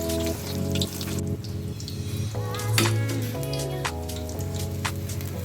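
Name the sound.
onion bajji frying in oil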